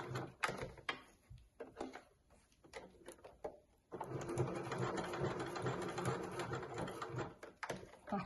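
A home sewing machine back-stitches red velcro onto a baking apron, with scattered handling clatter first and then a steady, fairly faint whirring run of stitching over the last four seconds.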